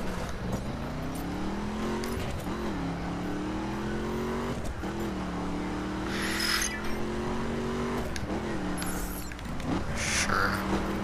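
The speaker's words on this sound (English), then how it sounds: "Oh, he's in a dragster." A dragster's engine in the racing video game The Crew drones steadily and loudly with a rising whine, dropping in pitch at brief shifts before climbing again, with faint high chirps over the top and no talk.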